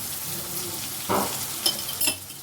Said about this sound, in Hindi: अब 1 मिनट मैंने लहसुन अदरक के पेस्ट को फ्राई कर लिया